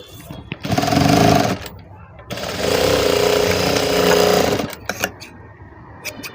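A sewing machine stitches folded cloth in two loud, steady whirring bursts separated by a short pause, with small clicks afterward and a voice talking nearby.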